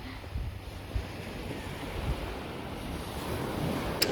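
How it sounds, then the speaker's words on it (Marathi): Ocean waves wash steadily onto a Konkan coast shore, a continuous, moderately loud surf rush mixed with gusty wind buffeting the microphone, with no talking. "ते त्यांना पाण्याचा आवाज ऐकवत."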